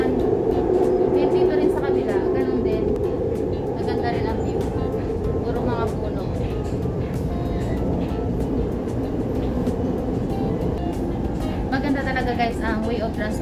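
Riding an MRT train on the Taoyuan Airport line in Taiwan, with a steady low rumble of the moving carriage and rail noise throughout while people talk over it.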